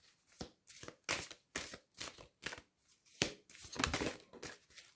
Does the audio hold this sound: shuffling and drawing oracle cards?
yes